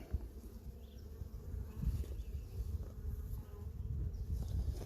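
Honeybees from a package colony buzz during a hive inspection, a soft steady hum with low rustling and handling noise close by, quiet overall and without speech.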